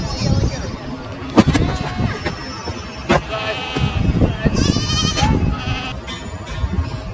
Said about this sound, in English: Wow, it's a goat. Small goat toy, guys.